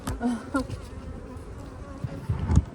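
Honey bees buzzing steadily at a beehive, a close, continuous hum with a few brief louder passes.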